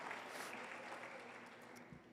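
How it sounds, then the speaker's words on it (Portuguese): Faint, distant applause from a gathered group, a steady wash of clapping at low level that tapers slightly near the end. "Uma salva de palmas para vocês"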